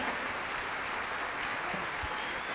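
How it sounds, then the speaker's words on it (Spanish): A church audience applauds the debaters after a Saturday-or-Sunday debate between a pastor and Catholic priest Luis Toro, a steady, dense wash of clapping from a crowd heard at some distance, unbroken throughout. "Vamos a darle las gracias a los hermanos, un aplauso"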